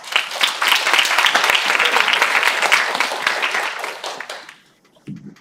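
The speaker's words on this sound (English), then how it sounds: "Delegate, welcome her with big applause." Crowd applause for the head chair of the first committee at a youth Model UN event, loud and steady for about four seconds before fading out, followed by a brief voice.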